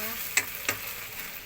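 Pork with pickled bamboo shoots stir-fries in a pan, a soft steady sizzle broken by two sharp clinks of a utensil against the pan.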